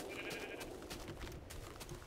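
A sheep bleats in the video game Minecraft with the Tekkit modpack, a short wavering bleat in the first half second followed by faint clicking game sounds, fairly quiet with no talk.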